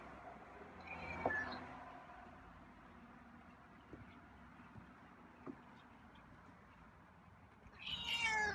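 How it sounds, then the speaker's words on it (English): A feral cat meows quietly outdoors at night, with a soft call early on and another faint meow at the end, separated by a long stretch of low ambient hum. "Some quiet meows tonight."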